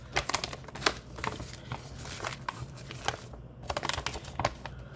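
A resealable zipper bag of Schneiders frozen chicken schnitzel is handled and opened, giving close, irregular crinkling and plastic rustling with sharp crackles spread through the stretch.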